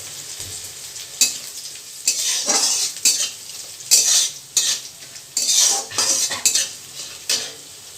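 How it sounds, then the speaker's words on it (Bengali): Ginger frying in a pan with a vegetarian raw seed banana curry, stirred with a metal utensil in repeated scraping strokes and clinks over a soft sizzle, close and clear. "আদাটা একটু ভাজা ভাজা হয়ে গেছে"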